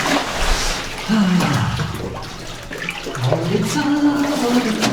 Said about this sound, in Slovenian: Vodica.